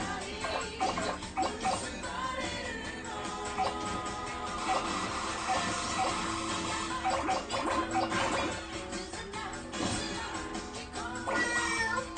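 A tabby cat meows intermittently while continuous music plays loudly throughout, so the cries come through partly buried under the music.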